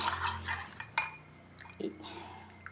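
Eggs with powdered cardamom and sugar are mixed in a bowl for bread roast: a utensil clinks and taps against the dish with light, wet sloshing, in quick irregular strokes that then slow and soften.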